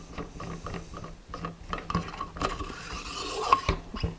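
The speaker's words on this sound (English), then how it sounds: "I'm going to loosen the lock nut here on top." Close rasping and scraping of a lock nut being loosened on a Photo Clam PT323 Pro Gold 3-section carbon fibre tripod, with irregular gritty rubs and small clicks over about four seconds, no talking.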